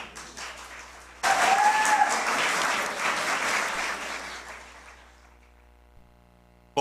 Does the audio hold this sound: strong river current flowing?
no